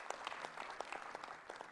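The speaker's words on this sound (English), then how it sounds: "Can I ask us to clap for ourselves?" A crowd applauds at a luncheon honouring 2022 sporting medalists: dense, steady clapping from many hands throughout, fairly close and with no voices over it.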